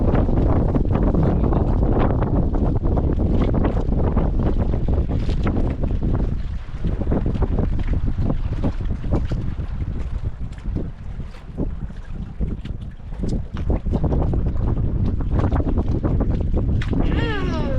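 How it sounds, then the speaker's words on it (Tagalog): Strong wind buffets the microphone in continuous loud gusts, with a low rumbling engine underneath and a faint voice now and then. "Hangin oy."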